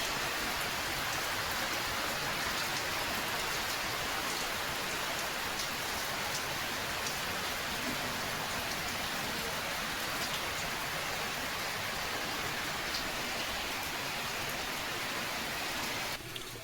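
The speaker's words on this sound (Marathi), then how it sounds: "डेंजर पाऊस यायला लागलाय" Heavy rain falls continuously, a thick, even rush of drops drumming on surfaces, close and loud, with nothing else breaking through.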